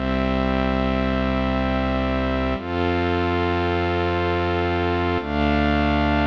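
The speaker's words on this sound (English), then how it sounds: "Let's take a look at some of the preset sounds first." Sustained synthesizer preset tones in a Dronage synth segment, a dense buzzy chord that switches abruptly to a new preset twice, loud and continuous with no talk.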